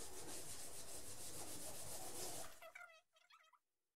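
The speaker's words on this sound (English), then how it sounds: "just dip it in a little bit of paint, move the excess on the side, and just start rubbing it in" A baby wipe rubbing paint into a mixed media art journal page: steady, loud scrubbing friction for over two seconds, then a few shorter, squeakier strokes that fade into silence.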